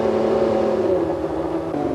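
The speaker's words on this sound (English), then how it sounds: "Waiting and ready are Mansell's mechanics, warming up the engine" A Ferrari Formula One car's engine is held at a steady, loud idle by the mechanics warming it up, a continuous close mechanical drone with slight pitch wavering and no voices.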